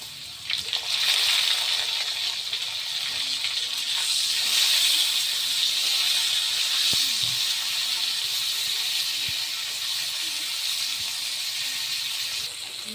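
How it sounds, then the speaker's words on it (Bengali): Mashed potatoes frying in a pan give a steady, close, loud hiss that runs without a break for the whole stretch, with no voices over it. "আমি একটু ভালো করেই ভেজে নেব। আলুটা একটু ভাজা হচ্ছে"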